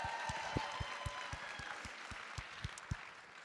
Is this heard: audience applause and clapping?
yes